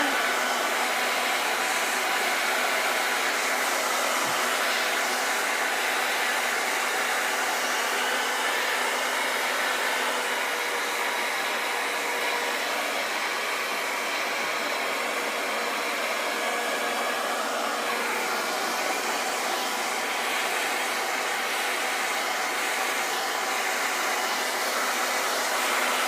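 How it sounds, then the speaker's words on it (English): A hair dryer blows steadily and loudly on wet textured paint, a continuous broadband whoosh that holds nearly unchanged for the full span with no talking. "I'm hitting this with the hair dryer"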